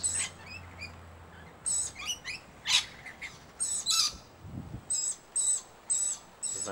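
Scaly-breasted lorikeets at a bird sanctuary on a sunny day let out a rapid series of shrill squawks and chirps, close and loud, in bursts with brief gaps between them.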